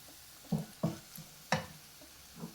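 Fried fish pieces being stirred into sizzling masala in a pan for Kerala-style fish pickle, with about five distinct scraping stirs over a soft, steady sizzle.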